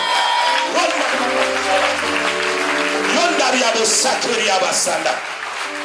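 A church congregation claps steadily through a worship service while a voice rings out loudly over the sustained applause.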